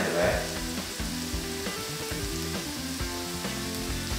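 Pork sizzling as it is sautéed over high heat for a country-style pork estofado, a steady close frying hiss with some stirring, and background music running underneath throughout.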